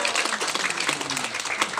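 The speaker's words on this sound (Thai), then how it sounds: "ปรบมือครับ" Wedding guests applaud at a Thai ceremony, a dense burst of many hands clapping together, fairly close and sustained throughout.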